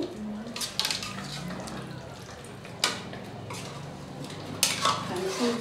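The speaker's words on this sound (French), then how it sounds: "Je remue un tout petit peu pour que je batte pas nyama ya lulu." A spoon scrapes and knocks against a pot as Congolese stew is stirred, a quiet, close stir with a few louder clacks over a low background hiss.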